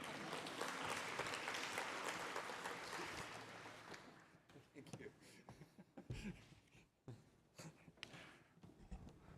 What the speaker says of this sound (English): Applause would be nice.